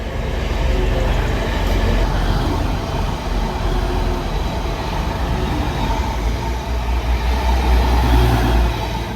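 A train rumbles past at Rochdale station, loud and close, with a steady roar and rattle that holds for the whole stretch.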